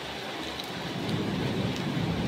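Steady rain falls during the rainy season in Malaysia, a continuous dense hiss with low rumbling undertones and no talking.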